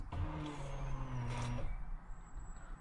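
Fuel pump on a Vauxhall Astra VXR priming after a new pump install, a steady electric whine and hum lasting under two seconds, fairly faint, then fading to quieter background.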